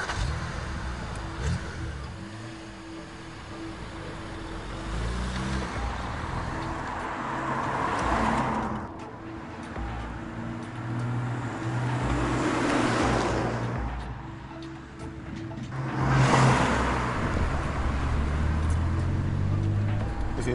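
A BMW 125i 1 Series cabriolet driving on roads around Valencia, Spain: a steady engine drone with road and wind noise, swelling in brief surges as the revs rise, with no voices.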